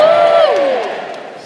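A live audience at an opening speech event bursts into loud cheering and whooping, a brief, dense roar of many voices that fades slightly.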